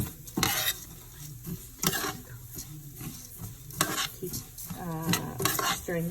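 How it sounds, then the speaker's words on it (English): Cracked wheat sizzles in a hot pan while a utensil scrapes and clacks against the metal in irregular stirring strokes, close and fairly quiet, with no talking. "I added my cracked wheat, and now I am sauteing that."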